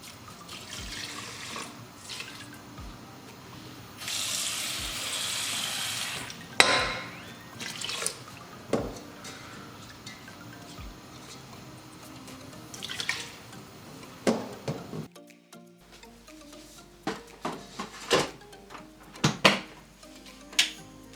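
Water runs and splashes into a rice cooker pot holding three cups of rice, filled up to the 3-cup line, with steady pouring broken by drips and small clinks, close and moderately loud, no talking.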